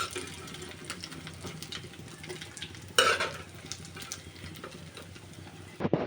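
Hilsa fish fritters frying in oil in a pan, a steady low sizzle with occasional stirring and utensil scrapes, a brief louder clatter near the start and another near the end.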